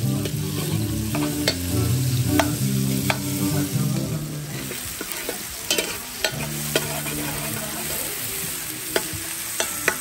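Onions frying in a pan over a wood fire, a close steady sizzle with frequent sharp stirring scrapes and clinks against the pan and a low rumbling undertone.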